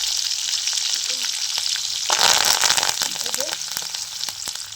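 Fresh curry leaves sizzle and crackle in hot oil with green chillies, a loud, steady frying hiss that surges into a burst of spattering midway before settling, with a few sharp pops throughout.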